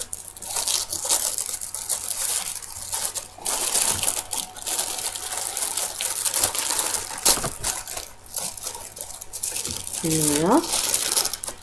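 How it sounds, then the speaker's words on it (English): Tissue paper crinkles and tears repeatedly while a cross-stitch subscription box is unboxed, a busy rustling texture throughout, with someone speaking briefly over it. "Excuse the crinkling, but it's exciting."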